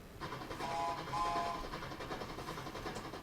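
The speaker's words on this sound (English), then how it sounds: "Where's my train noise?" A train sound effect plays during a livestream: a fairly faint rumble of rolling rail cars with a brief whistle-like tone near the start.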